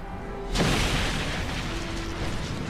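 An explosion in the anime Fullmetal Alchemist: Brotherhood sets off with a sudden, loud boom, followed by a sustained roaring rumble that holds steady for about two seconds without fading.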